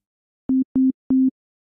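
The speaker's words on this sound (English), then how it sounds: "Because we've only added the first harmonic, this will be a simple sine wave." Three short pure sine-wave tones from the Serum wavetable synthesizer, built from a single first harmonic, play as clean steady beeps with brief gaps between them and nothing else underneath.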